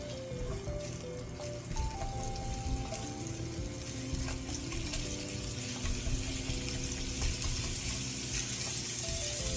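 Steady sizzling and crackling of eggs spread through hot oil in a pan, continuous and close, with a faint tonal hum in the background and no talking.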